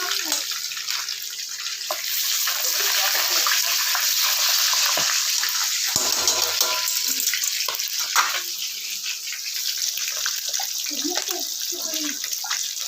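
Onion and ginger frying in hot oil in a pan, a steady crackling sizzle with splattering bursts throughout, while a person talks over the cooking.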